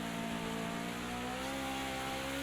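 The engine of a BMW 320 Turbo Group 5 race car in Project CARS 2 at Bathurst drones loud and steady, its turbocharged note holding high revs, then climbing gradually in pitch as it accelerates.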